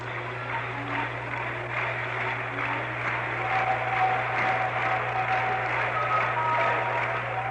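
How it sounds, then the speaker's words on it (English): Pittsburgh Pirates fans clap throughout a 1971 World Series baseball game, a steady distant stadium patter of applause under a constant low broadcast hum. "Pirates fans want another run as they begin to clap as Cash waits the delivery"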